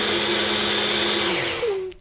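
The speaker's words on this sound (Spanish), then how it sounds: "aquí voy con la batidora y ya veis qué rápido" A blender whirs loudly and steadily as it purées banana and yogurt into a base for dog ice cream, then the motor winds down and stops at the end, with no talking over it.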